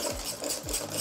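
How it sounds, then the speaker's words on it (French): Chocolate cream is stirred gently in a bowl, making a soft, rhythmic scraping that repeats in even strokes about twice a second, close up and with no talking. "Et je mélange tout doucement."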